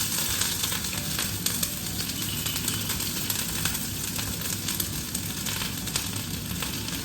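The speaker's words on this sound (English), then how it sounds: "I have my frying pan with olive oil. I'm just gonna let that heat up and add chopped onions" Chopped onions frying in hot olive oil in a frying pan, a loud, dense, continuous sizzle and crackle close up, steady with no talking.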